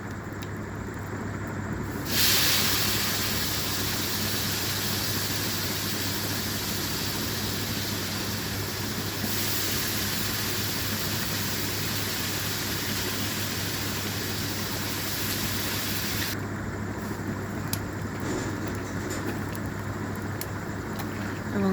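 Water with rice for pilaf boils in a pot on a clay stove, giving a steady, close hissing roar that carries on unbroken for over twenty seconds with no talking.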